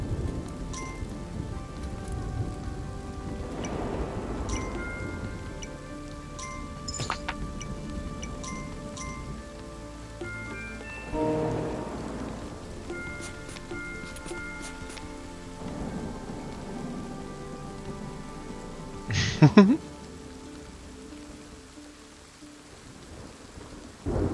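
Thunderstorm in a video game, with steady rain hiss and several rolling thunder swells, plus a sharp lightning crack near the end, mixed with faint game chimes and tones throughout.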